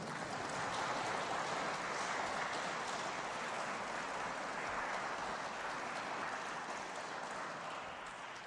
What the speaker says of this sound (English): Everyone give a round of applause